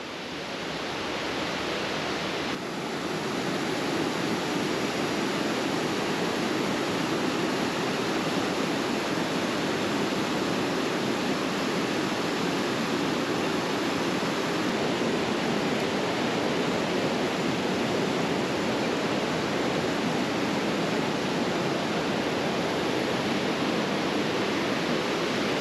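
Calypso Cascades, a waterfall in Wild Basin, Rocky Mountain National Park, roars in a steady broad rush of falling water, loud and close, unbroken for the whole stretch with no voices.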